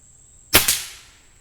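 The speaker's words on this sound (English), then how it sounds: "Shooting at the squirrel." A single sharp shot from a Gamo Swarm Bone Collector 10X Gen 3i air rifle fired at a squirrel, a quick snapping crack followed closely by a second impact pop, brief and loud against a quiet background.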